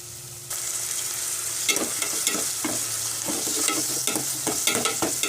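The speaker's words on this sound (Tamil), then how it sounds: "இப்போ நம்ம இஞ்சி பூண்டு பேஸ்ட்டு போட்டு ஒரு கிண்டிக்கலாம்" Ginger garlic paste stir-fried with onions, a hiss that starts abruptly and stays steady, with a run of quick, close scraping and clattering stirs of a spoon in the pan, in a bachelor's kitchen in Saudi Arabia; no talk.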